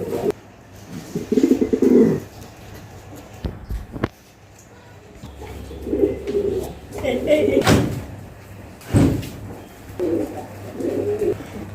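Pigeons on a pigeon farm coo in low repeated bursts, interrupted by sharp knocks like a door or cage bang, while a man calls out a few short words over them.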